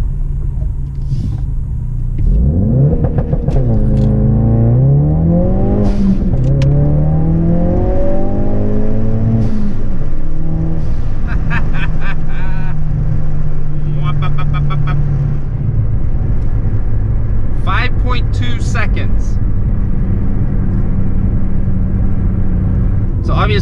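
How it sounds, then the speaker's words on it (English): A Ford Focus RS makes a 0-60 launch run, the engine roaring up through rising revs with gear changes, then settling into a steady rumble followed by a few short clicks and thuds. "Let's do some 0-60 in the Focus RS."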